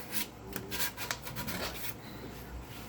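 Sandpaper rubs steadily over a mahogany bass guitar body, a quiet, close, rasping scrub in short repeated strokes.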